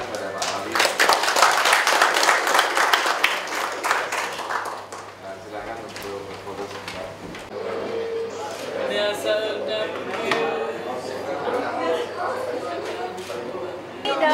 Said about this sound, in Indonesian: kita berikan tepuk tangan kepada Pak Ali.